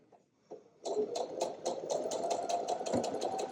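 A sewing machine stitches quilt patchwork through a 1/4 inch seam foot, starting after a brief pause and then running steadily with a rapid, even mechanical hum and clatter, close and fairly loud.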